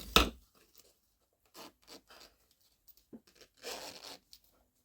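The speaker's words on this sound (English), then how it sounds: "At this time, you need to open your zipper 2/3 of the way." A zipper on an in-the-hoop embroidered zippered bag being opened, heard as a sharp close rip followed by several short, faint scratchy zipping bursts separated by pauses.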